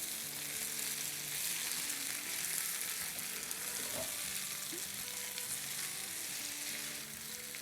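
Thinly sliced taro and potatoes fry in oil in a pan, a steady close sizzle with a faint stirring scrape in the middle.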